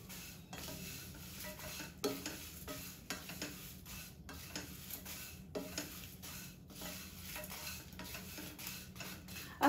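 A spoon stirs a homemade muesli mix dusted with cinnamon powder in a bowl, giving soft rhythmic scraping and rubbing strokes with light clinks, close but quiet, with no voices.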